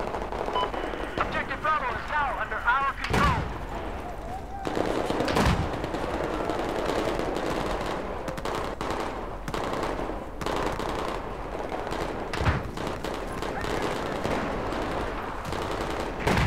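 Rapid machine-gun bursts and single gunshots crackle through a Battlefield 4 multiplayer match, loud and dense with occasional heavier blasts, while players talk over the firing.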